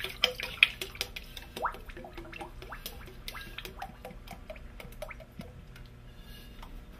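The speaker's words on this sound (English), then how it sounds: "pour the glaze out" Raku glaze glugs and drips as it is poured out of a ceramic bottle back into a bucket, with wet splashy bursts early that thin to scattered trickles and drops.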